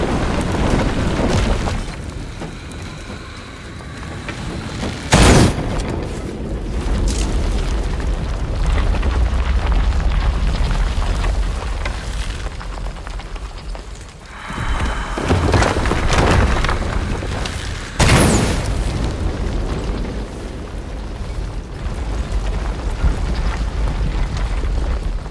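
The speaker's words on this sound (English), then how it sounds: "Another explosion would raise the platform." Deep explosions in the video game Shadow of the Tomb Raider, with three separate booms spread over a rumbling, rushing background of debris and water-like noise.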